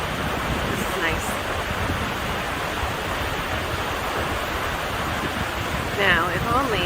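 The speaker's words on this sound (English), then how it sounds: "I'm hoping you can hear some of this water coming down the river area." River water flows in Panama as a steady, dense rushing roar that continues without break, with a faint bird or high chirp briefly near the end.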